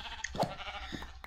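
Sheep bleating in the Minecraft FTB Infinity modpack, a short pair of game bleats heard fairly close against a quiet background with no talk.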